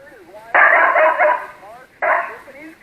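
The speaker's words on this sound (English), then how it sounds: "Is that your dog?" A dog barks in two harsh, loud bursts, heard over a narrow, tinny 75-meter amateur radio channel, with voices and radio whistles around them.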